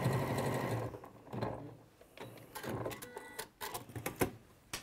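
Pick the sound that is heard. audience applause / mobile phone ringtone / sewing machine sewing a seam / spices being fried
sewing machine sewing a seam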